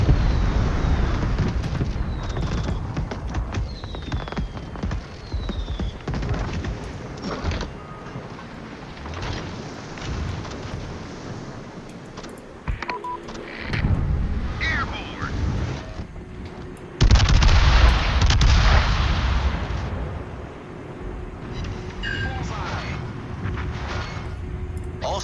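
Heavy naval gun salvos from a CB large cruiser in World of Warships boom out in several deep bursts, with one loud blast near the end, under a continuous rumbling battle din and brief radio-style chatter.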